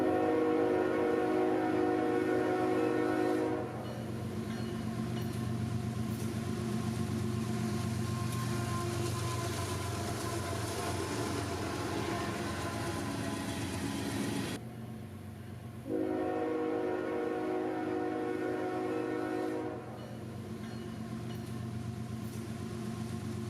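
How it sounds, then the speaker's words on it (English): A freight train rumbles past on a rail line, a long steady roar of wheels and cars with a sustained horn blast standing out for several seconds, recorded from trackside. "think I hear a train coming"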